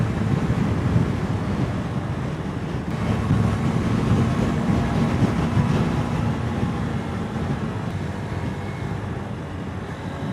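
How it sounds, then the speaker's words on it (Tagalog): Steady, heavy wind buffeting the microphone during a road bicycle ride, a continuous loud low roar lasting throughout with slight swells and no voices. "At least dito yung hangin medyo nasa likod."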